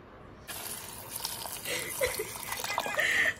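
Water splashes and gushes steadily into a pot of vegetables after a brief quiet start, growing louder toward the end, with faint background voices.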